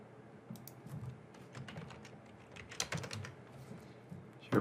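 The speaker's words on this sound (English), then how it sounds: "We'll type in SharePoint." Quick clicks of typing on a computer keyboard, a close burst of uneven keystrokes with brief pauses and a louder tap at the end.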